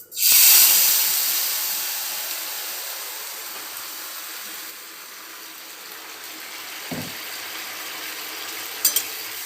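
Cumin seeds drop into hot oil in a kadai, bursting into a loud, close sizzle that slowly fades to a softer steady hiss, with a couple of small knocks near the end.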